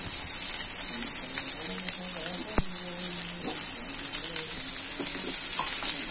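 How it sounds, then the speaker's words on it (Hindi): Food shallow frying in oil gives a constant close sizzle and crackle, with a few soft clinks from a utensil and a faint voice in the background. "ये शैलो फ्राई हो रहे हैं"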